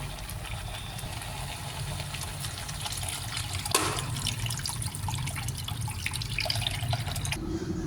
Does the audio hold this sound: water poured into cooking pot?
yes